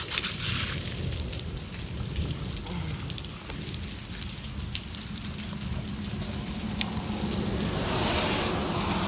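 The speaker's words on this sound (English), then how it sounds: "That's hail." Golf-ball-sized hail falls after a tornado, making a dense, continuous patter of hard impacts that stays loud and steady throughout, with no talking.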